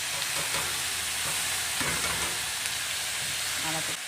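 Shredded cabbage hits a pan of fried potatoes and crackles in a loud, close sizzle, with stirring scrapes and a few clatters breaking through the steady frying.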